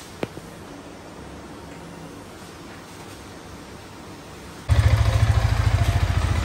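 Yamaha R15 M motorcycle engine with a knocking fault, heard after quiet background as the engine suddenly runs loud and close with a rapid, regular pulsing clatter for the last two seconds.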